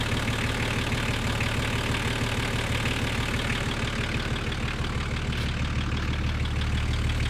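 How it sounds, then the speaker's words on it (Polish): A 30-year-old Nissan Patrol Y60 engine idles close by with a steady, loud, dense rumble and a fast uneven knock running throughout, with no talking. "Silnik ogólnie chodzi, ale nie jest to żadna rewelacja."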